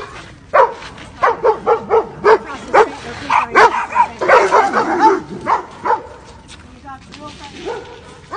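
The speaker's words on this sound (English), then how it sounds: "Oh, you can't even keep control of your dog." A dog barks repeatedly in quick, loud bursts during a tense outdoor confrontation, the barks mixing with agitated voices that talk over them.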